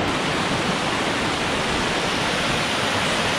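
Creek water rushing steadily close by, a dense, even hiss of flowing water with no pauses or voices.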